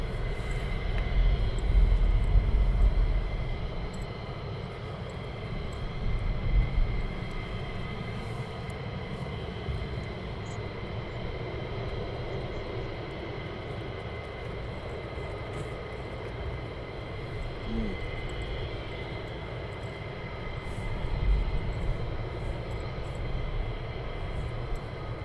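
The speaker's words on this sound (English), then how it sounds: "by the sound of it, I reckon there's at least 12 aircraft that have started up" Military jet engines running and starting up at RAF Lakenheath, a steady distant roar and whine that swells and eases slightly, heard outdoors from afar with no voices.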